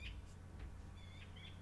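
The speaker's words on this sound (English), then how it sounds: "There's a bird chirping outside and it's getting really irritating." A bird chirps outside: a few quick, thin high tweets at the start and again in the second half, faint and distant over a low steady hum, with no talking.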